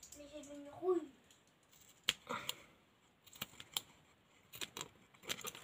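Scissors snip off excess paper on a scrapbooked card, a few short crisp cuts spread across the moment after a brief spoken phrase, close and fairly quiet.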